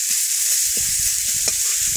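Oil sizzles loudly and continuously in a pan as garlic goes in before frying eggplant, a close, even hiss with faint soft knocks beneath it.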